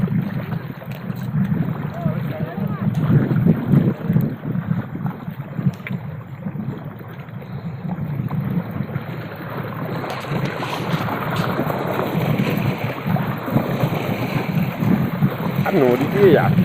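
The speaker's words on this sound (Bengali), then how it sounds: "নদীতে এত পরিমাণে ঢেউ হচ্ছে কি আর বলবো, প্রচুর ঢেউ।" Strong wind and rough river waves buffet a fishing boat on a big river during a storm, a steady roaring wash of water and wind noise throughout, with people talking faintly at times.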